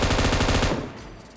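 Rapid automatic M249 machine gun fire in PUBG Mobile bursts loudly for most of the moment, then cuts off, leaving a fading echo and low background rumble.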